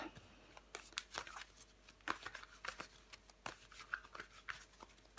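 Tarot cards are handled and turned over on a table, quiet papery flicks and taps in an irregular run of short bursts, close and faint, with no talking.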